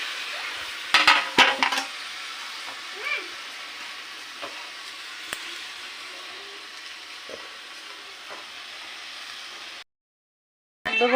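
Fish paturi mixture poured into a hot, dry wok without oil, a brief loud splash and sizzle at first, then a quieter steady sizzle of cooking that cuts out near the end.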